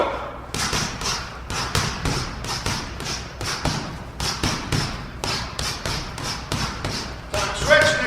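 Rapid, relentless punches pound a heavy striking bag during a one-minute all-out round of a striking workout, dense thuds and slaps in quick bursts with brief gaps, loud and close, no talking over them.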